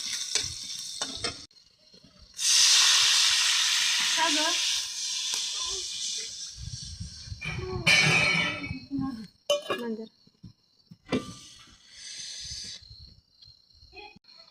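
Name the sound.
mustard, cumin and garlic sizzling in hot oil tempering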